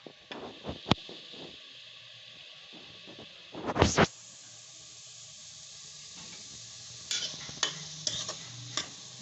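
Toor dal and beans fry in a pan under a soft steady sizzle, with occasional scraping stirs and one louder clattering scrape near the middle, close and with no talk.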